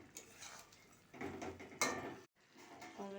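Spoon clinking and scraping in a cooking pot while banana-seed curry (bichi kolar chorchori) is stirred on a gas stove, a few soft metallic knocks and scrapes, fairly quiet, with a brief dropout.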